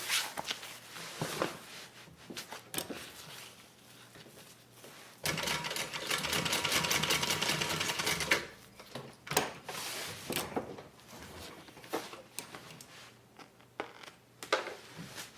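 A sewing machine stitches across a zipper on a range bag in short, close mechanical bursts, with one longer, louder continuous run in the middle and brief pauses and handling noises between.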